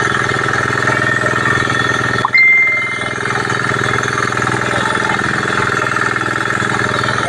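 A ride-on farm harrowing machine, driven with the operator seated while tilling a field, runs its engine in a steady loud drone that continues alone, with a brief dip midway.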